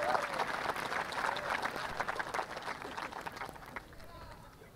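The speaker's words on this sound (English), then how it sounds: "Students, please join me in a round of applause for these dedicated individuals." A high school commencement crowd applauds faculty and staff, a steady wash of clapping with a few scattered voices mixed in, holding for several seconds before thinning out at the end.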